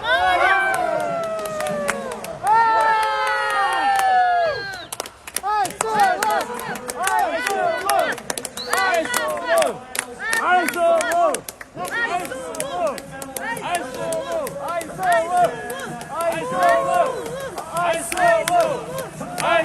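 An arena crowd at a Tokyo 2021 Olympic wrestling bout shouts, cheers and claps in dense, overlapping bursts. The noise swells and dips throughout, with individual voices yelling close by.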